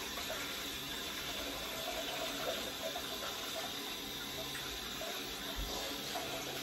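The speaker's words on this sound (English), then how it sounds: "now I'm going to wash my hands" A kitchen tap runs steadily while hands are washed under the stream. The constant hiss of water is faint and unbroken, with no talking.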